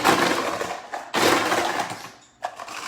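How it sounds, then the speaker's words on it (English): Ice cubes tumble into a glass holding a rum and mint cocktail, two loud crunching, clattering bursts with a brief pause and a short final clink. "If you need to top it off with a little ice here, you can."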